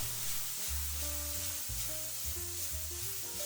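Cowpeas and soy-sauce-coloured pork stir-fried nonstop in a wok, a steady close sizzle with scraping and tossing, heard alone without talk.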